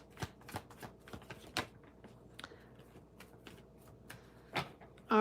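Tarot cards shuffled by hand, a series of quick papery riffles and soft slaps at close range, irregular in rhythm, ending with a sudden louder clatter.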